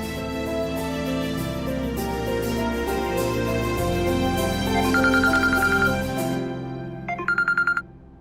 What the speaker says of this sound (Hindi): दादी का फोन आ रहा है जगराते के लिए